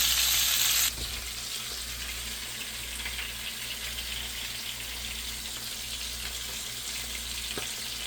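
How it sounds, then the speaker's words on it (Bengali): Onions frying in oil in a pot, a soft continuous sizzle with faint crackles after a brief loud burst at the start. "একটা পাতিল বসে তেল দিয়ে পেঁয়াজটা দিয়ে দিয়েছি। পেঁয়াজটা একটু ব্রাউন কালার করে নেব।"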